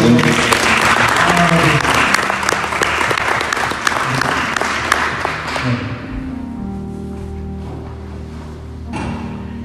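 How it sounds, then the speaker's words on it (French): An audience at a church gathering breaks into loud, full applause after a pastor's testimony. The clapping fades out past the midpoint, leaving sustained tones ringing on alone. "On peut applaudir encore ce soir."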